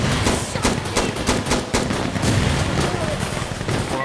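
Rapid gunfire in the first-person shooter Insurgency: Sandstorm, with dense repeated shots and bursts crackling loudly throughout, close and continuous.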